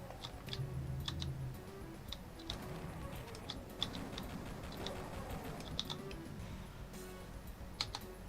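Typing on a computer keyboard, with faint, irregular clicks and taps scattered over a quiet background hum, no one speaking.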